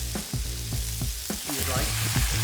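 Pork fat searing in a hot pan at a Texas barbecue cook-off, a steady close sizzle with sharp crackles and pops, accompanied by a low voice.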